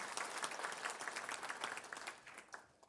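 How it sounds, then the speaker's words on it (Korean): A church congregation applauds a visiting elder, steady clapping from many hands filling the room throughout, loud and fairly close with no one speaking. "박수 한번 해주세요"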